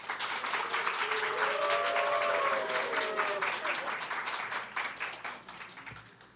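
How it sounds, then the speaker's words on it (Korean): A church congregation at a Sunday worship service gives a pastor a big round of applause with cheers and shouts, dense clapping filling the hall for several seconds before tapering off. "우리 목사님 앞으로 오실 때 우리 큰 박수와 또 환호로 환영하도록 하겠습니다."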